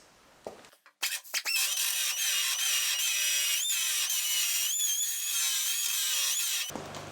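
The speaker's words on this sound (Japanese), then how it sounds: "このぐらいで穴を広げます。" A power tool grinds away metal to widen a hole in the body of a Caterham Super Seven, a loud, sustained high-pitched whine running several seconds after a few knocks and stopping abruptly.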